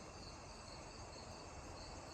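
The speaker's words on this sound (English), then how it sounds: "hear the crickets" Crickets chirping at night in a backyard, a steady high trilling that runs throughout, faint and continuous, with no voices.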